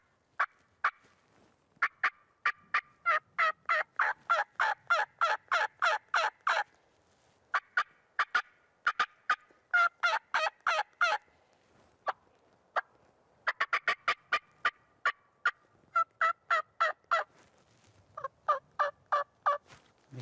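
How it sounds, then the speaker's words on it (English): Sharp, high turkey mouth-call notes: quick cuts and runs of rapid cackling in repeated bursts, some loud and some softer, with short pauses between. "This call though, however, you can get louder and you can get soft."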